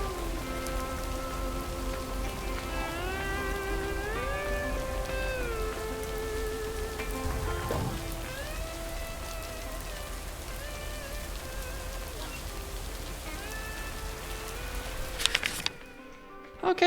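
Steady rain patters continuously in the video game Lake over a soft wash of game music, with a brief rustling shift near the end.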